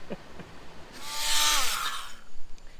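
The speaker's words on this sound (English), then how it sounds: "I just can't get the multi-tool just down the back there" An oscillating multi-tool buzzing harshly for about a second while working on a stuck part, close and loud, with quiet handling noises before and after.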